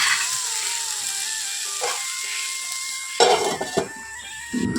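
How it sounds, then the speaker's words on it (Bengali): Panch phoron and dried chilli being stirred in a hot pan, with a soft sizzle and a few scrapes and knocks of the utensil against the pan near the end, with a steady hum underneath. "আজকে তাই এভাবেই 5 ফোড়ন আর একটু শুকনো লঙ্কা দিয়ে নেড়ে নিচ্ছি।"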